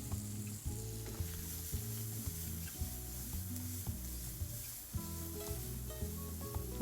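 Marsala wine sauce reducing in a pan for chicken Marsala gives off a steady, soft sizzle that runs throughout beneath louder background music.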